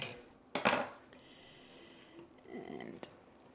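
A knife cuts through a portion of food on a plate, giving one sharp scrape and clink against the dish, then softer scraping strokes a moment later, close and fairly quiet.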